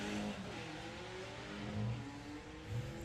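Drag racing car with a big block engine accelerating down the strip at Santa Pod Raceway, a steady loud engine drone rising in pitch, heard from trackside without talk.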